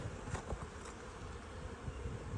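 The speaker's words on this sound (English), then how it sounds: "More and more bees" Buckfast honeybees hum around a hive in a steady, faint, continuous buzz, with a few individual bees droning briefly closer.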